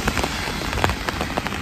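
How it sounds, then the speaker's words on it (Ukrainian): Rain falling outdoors, a steady dense patter of drops on surfaces with scattered sharper splats, close and moderately loud throughout with no talking. "Ой, дощ поїхав,"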